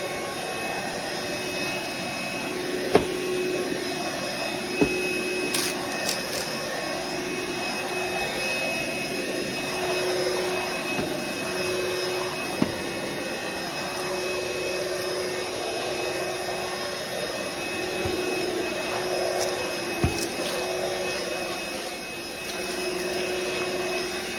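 Roomie Tec SlimVac cordless vacuum cleaner with a 2200mAh battery sucking up debris from a home floor and carpet, a steady loud motor whine throughout with a few sharp clicks of picked-up bits.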